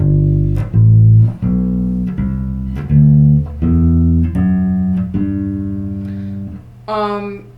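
A bass guitar plays a major scale legato, a smooth run of connected notes, one flowing into the next with no gaps, loud and close, ending on a brighter note.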